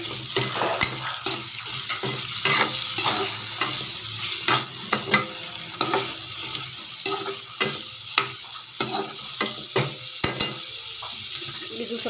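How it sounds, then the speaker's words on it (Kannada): Tomatoes fry in a pan while being stirred, with steady sizzling broken by frequent clicks and scrapes of a utensil against the pan, close and continuous. "ಇವಾಗ ಟೊಮೆಟೊ ಇದನ್ನ ಸ್ವಲ್ಪ ಫ್ರೈ ಮಾಡೋಣ"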